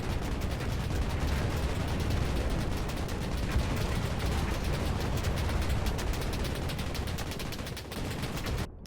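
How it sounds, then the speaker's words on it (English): Continuous roar of naval battleship guns in a Foxhole sea battle, loud and dense, with overlapping blasts and rumbling fire from both sides and no clear gaps. "As the first passing occurred, direct shots were fired from both sides"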